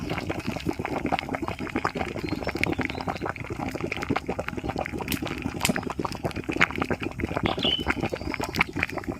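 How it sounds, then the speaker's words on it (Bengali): Water bubbling at a steady boil in a pot while kachki fish steam over it, a dense, continuous gurgling and bubbling close by with no talk. "জল কেমন ফুটছে"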